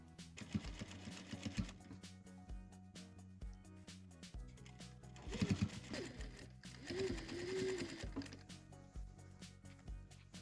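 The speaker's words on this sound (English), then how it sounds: "Now we sew." A sewing machine stitching fabric for a button-up shirt upcycle, running in short close bursts of rapid needle clatter with pauses between, fairly quiet overall.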